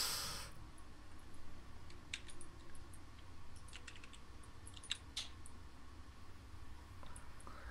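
Furious typing on a computer keyboard: rapid, irregular key clicks and clacks scattered over a steady background hiss, fairly close, with no talking.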